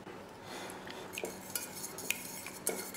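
A whole egg and an extra yolk are stirred together in a bowl for pastry cream, giving faint, irregular clinks and light scraping of utensil against the bowl, quiet and close with no voices.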